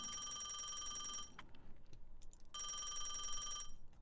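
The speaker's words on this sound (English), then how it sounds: "A ringing sounded through the darkness, echoing through the soulless house." A telephone rings in two long electronic bursts inside a dark, empty house in the video game Dreambound, with a short gap between the rings.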